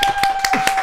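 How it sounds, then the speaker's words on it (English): A small live audience at a holiday podcast taping claps in a short burst of several sharp, close hand claps, with a few faint voices mixed in. "Y'all can clap it up."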